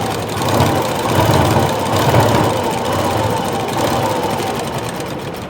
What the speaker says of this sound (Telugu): ఇప్పుడు పాదం దించండి పాదం దించేసి ఇప్పుడు ఎడ్జెస్ ఎడ్జెస్ కూడా కుట్టుకుంటూ వచ్చేయండి